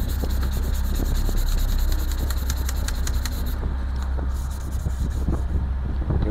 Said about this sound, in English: We're going to sand these down just to take the sheen off.